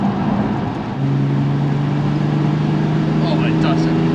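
A Ford F100 race truck fitted with a swapped Nissan 370Z engine runs with a steady, continuous drone, holding a constant note at close range and loud throughout.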